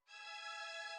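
A violin string sample with a vintage tape effect holds one sustained, steady, bright bowed chord with a quick swell in and an abrupt stop, alone and moderately quiet.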